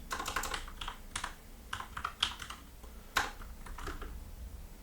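Keys clatter on a computer keyboard in a steady burst of close typing, with quick irregular clicks and brief pauses between clusters.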